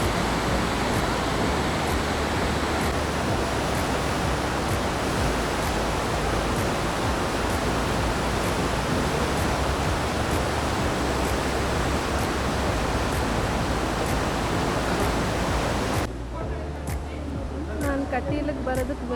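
Water flowing near a temple at Kateel, a loud, dense continuous rush close by that fills the scene, then drops away suddenly near the end to leave quieter background sounds.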